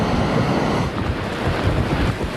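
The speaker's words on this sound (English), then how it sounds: "Wind gusts close to 100 miles an hour sucked the roofs from homes." Roaring wind from Hurricane Frances battering Florida, a dense, continuous blast of broadband gusts buffeting the microphone, loud and unbroken throughout, with no voices.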